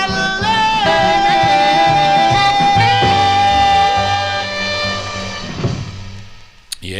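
A 1953 78 RPM record plays as a steady stream of vocal group music with sustained tones and a full mix, fading toward the end with a brief click.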